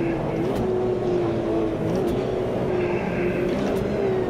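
A Porsche 908 race car engine roars in the Automobilista 2 racing game, a steady, loud, sustained drone with slight pitch wavers as it holds speed.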